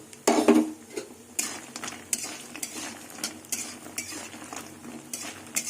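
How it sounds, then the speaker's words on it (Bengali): Lentil dumplings (bori) frying in hot mustard oil in a wok, with repeated scraping and stirring clatter from a spatula, a loud burst near the start, then steady moderate sizzling and clinks. "তেল গরম হয়ে গেছে এবার বড়িগুলো ভেজে নেব"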